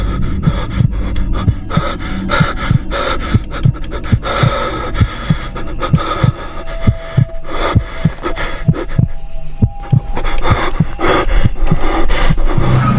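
Heavy, ragged panting from a person in a horror film, each breath landing in a steady, rhythmic pulse with low heartbeat-like thumps beneath, close and fairly loud, with no talking.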